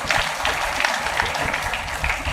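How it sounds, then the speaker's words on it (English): A hospital event audience claps in a dense, steady round of applause filling the whole short stretch, fairly loud and close. "A big round of applause."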